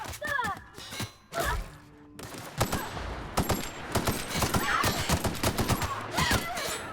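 Bursts of gunfire from a gun in The Outer Worlds video game, loud, sharp shots in irregular volleys and rapid strings, with a voice talking between them.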